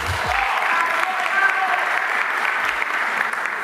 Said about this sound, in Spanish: Hoy el país entero te aplaude de pie.